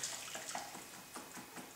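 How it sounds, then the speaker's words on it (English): Homemade vegetable stock drips and trickles from strained vegetables into a bowl, a faint, steady wet patter with a few soft splashes and no talking. "You can leave it for a while and let everything drip."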